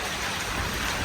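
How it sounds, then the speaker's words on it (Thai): Heavy, unbroken rain falls near a newly built water storage tank, a loud, dense wash of noise that fills the whole moment with no voices. "เดี๋ยวคนเบิ่งฝนตกบ่เซาเลย"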